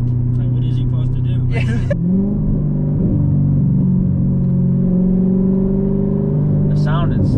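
A Chevrolet Corvette C7 engine rumbles steadily close by from inside the car as it builds speed onto a highway, with a brief higher burst near the start and again at the end, while people talk over it.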